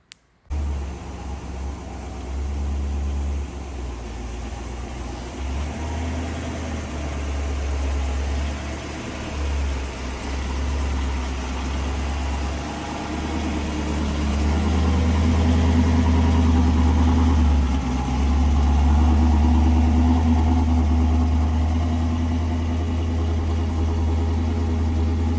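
A Trans Am car engine rumbles steadily at idle, then rises slightly as the car pulls out of a garage and drives slowly nearby, with a continuous low throb.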